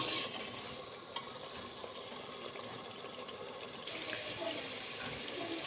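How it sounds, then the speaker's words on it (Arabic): Chicken fries in a pot with a little water added, giving a steady crackling sizzle with hissing steam throughout, quiet and close, growing slightly louder near the end. "كما تشوفوا راهي تتقلى دركا نزيد لها شويه ماء كيما هيك ونخليها تقلى مليح"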